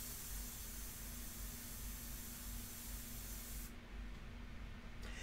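An airbrush sprays India ink onto paper during portrait painting, giving a steady close hiss with a constant low hum beneath it. The spray cuts out briefly near the end.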